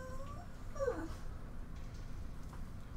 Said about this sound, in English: Oh, the Lilu puppy whining